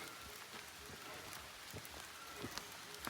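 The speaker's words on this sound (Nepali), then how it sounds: "पानी पर्यो जङ्गलको बिचमा" Rain falling in a forest during a hike, a steady soft wash of drops with scattered nearby taps on leaves and surfaces, faint and continuous.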